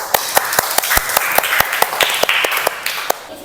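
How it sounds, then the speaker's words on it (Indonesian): Classmates clap for a student in a school lesson, steady rhythmic applause with sharp individual claps standing out over a busy wash of hands, close and fairly loud. "tepuk tangan buat Ardiansyah"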